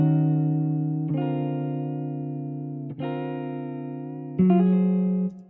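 A synthesizer playing sustained held notes in Ableton Live 12.2, with random noise modulation on the frequency giving a subtle lo-fi pitch drift; a few note changes, clean and alone.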